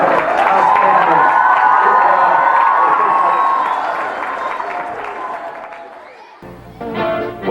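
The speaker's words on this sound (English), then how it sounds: "Give yourselves a round of applause." Audience applause with cheering and whoops from a crowd at a public ceremony, loud and sustained, slowly fading before a brief lull and a fresh burst of clapping at the end.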